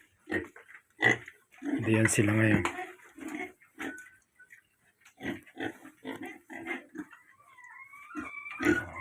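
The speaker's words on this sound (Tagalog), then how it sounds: "dito ko nilagay yung mga baboy oh." Pigs grunt and squeal in a concrete pen on a flooded farm, heard as short snorts and a louder squealing burst, mixed with someone talking nearby and some faint clanking.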